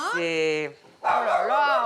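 Great Dane dogs vocalizing indoors near a soft bed: a drawn-out, tonal whining bark rings out near the mic, then a person talks over continued dog noises.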